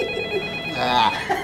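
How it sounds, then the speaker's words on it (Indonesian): An indoor telephone rings with a steady repeating electronic tone, heard faintly beneath a room ambience, with a brief voice near the end. "Teleponnya bunyi, kok nggak diangkat?"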